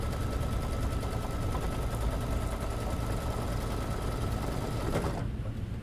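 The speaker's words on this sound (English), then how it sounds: "the satisfying sound of when the needle is done stitching the step that you're waiting on" An embroidery sewing machine runs steady, fast needle stitching through a tacking step on an appliqué tile design, a constant dense mechanical whir that stops abruptly near the end.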